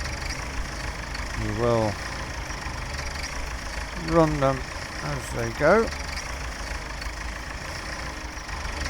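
A tractor engine idles at a steady low rumble beside a potato harvest, while someone talks over it in short bursts.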